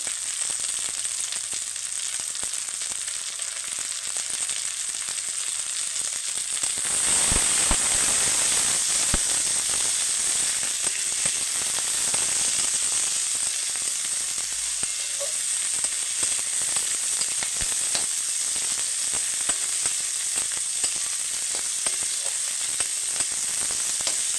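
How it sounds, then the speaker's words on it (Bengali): Chopped green chillies frying in hot oil for a bread pakora filling: a steady, close, loud sizzle that swells when more goes into the pan around seven seconds, then crackles on evenly with no talking. "লঙ্কা কুচি এবার সবগুলো একসঙ্গে দিয়ে দিচ্ছি ভালো করে ভেজে নেবো"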